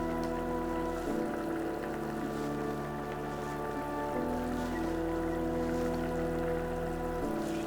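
Leftover piyaju drops into a bubbling thin curry broth, giving a steady simmering hiss and patter over a low hum that shifts at a few points, with no talking.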